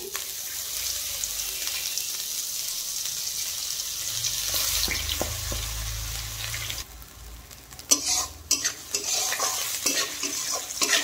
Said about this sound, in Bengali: আদা দেখুন ভাজা ভাজা হয়ে গেছে